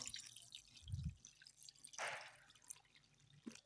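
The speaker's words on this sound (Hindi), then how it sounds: "पानी इसमें डाल देंगे।" Water poured onto chana dal in a clay pot while making dal halwa: a low splash, then a brighter trickling pour and a few scattered drips, close and fairly quiet.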